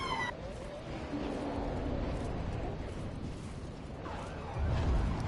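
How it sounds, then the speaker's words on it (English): Police sirens wail in Dark Souls III, rising and falling over a steady rumble of engine and ambient noise, with a heavier thump near the end. "There's two police cars going up the road."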